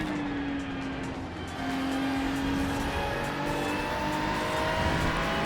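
A Ferrari race car in the iRacing sim drones through a qualifying lap, its engine note climbing steadily through the gears with shift breaks and a faint tire squeal, loud and close.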